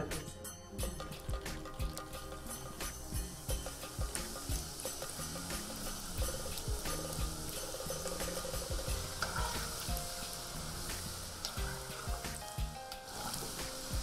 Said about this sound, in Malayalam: അപ്പോൾ നമ്മുടെ എണ്ണ ഇവിടെ നല്ലപോലെ ചൂടാക്കി കഴിഞ്ഞു ഇനി നമുക്ക് ഗുലാബ് ജാം മിക്സ് ഇടാം